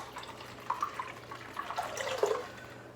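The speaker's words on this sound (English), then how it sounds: "This is our lye solution. We are going to gently pour this into the oils." Lye solution is gently poured into melted oils in a crock pot, giving faint, intermittent liquid trickles and drips in a quiet room.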